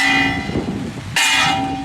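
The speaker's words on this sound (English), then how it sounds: "This school bell at the government high school Tala Indu subdivision is rung this October for the first time in 4 years" A metal school bell rings at a government high school in Tala Indu subdivision, giving a loud, sustained clanging tone in two close strikes with a brief dip between them.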